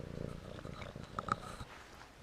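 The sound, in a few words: cat purring at a monastery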